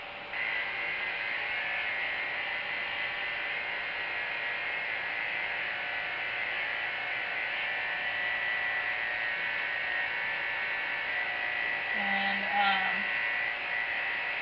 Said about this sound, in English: I'm going to shave up his leg.